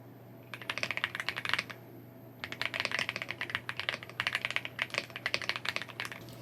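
Someone types a writing draft on a computer keyboard in close, quiet, rapid bursts of key clicks, with one brief pause early on.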